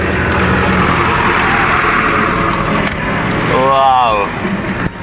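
A fully loaded vehicle drives past on a road in Morocco, a loud, continuous engine and road roar, while people talk over it.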